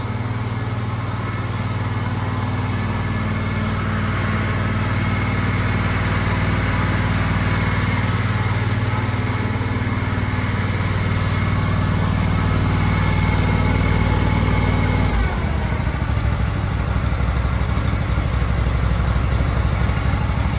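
The small air-cooled engine of a 22-year-old Walker MTGHS mower idles steadily and loudly with a constant low drone, its pitch dropping slightly near the end.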